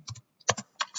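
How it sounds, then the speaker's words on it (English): Keys on a computer keyboard clack in short quick clusters as the ping command is typed, a few close, crisp taps separated by brief pauses. "So here you would type ping"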